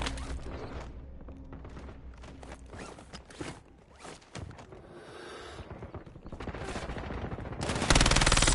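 Rapid gunfire and bursts crackle through a Call of Duty: Warzone firefight, continuous and fairly loud over dense game ambience, swelling into a heavy, sustained volley at the end.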